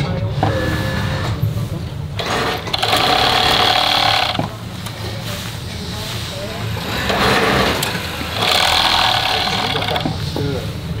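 An industrial sewing machine closes the underarms and sides of linen T-shirts in a garment workshop, running in loud whirring bursts of a second or two with pauses between, while a person talks throughout.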